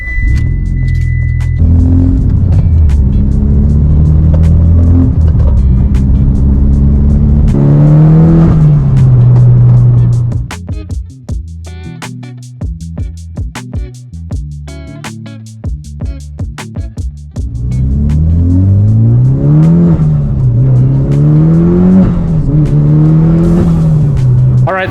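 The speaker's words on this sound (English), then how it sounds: "Let's go on a drive and see if this thing is all fixed" A Subaru STI with a freshly repaired transmission drives nearby, its engine rumbling loudly and revving through rising gear pulls, easing into a quieter, choppier stretch midway before pulling hard again.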